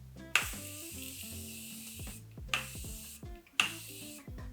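Makeup setting spray is spritzed in three short, sharp hissing bursts spaced about a second apart, close to the listener, over quiet background music.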